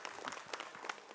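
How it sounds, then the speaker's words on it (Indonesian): Brief burst of audience applause at an Islamic Ramadan gathering, a dense patter of many hands clapping at moderate distance, fairly quiet and steady throughout. "tepuk tangan dong buat Abi Maki."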